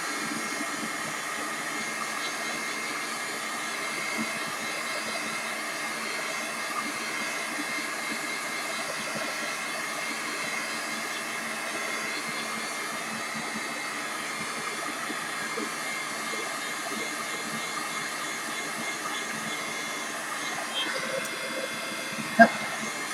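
A heat tool dryer blows steadily on a wet junk journal cluster embellishment, a constant close whooshing hum that runs throughout with a small clack near the end.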